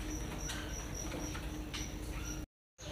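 Magpie robins (murai batu) chirp in a stocked mall bird shop, with repeated short high calls over a dense, noisy background that briefly cuts out near the end.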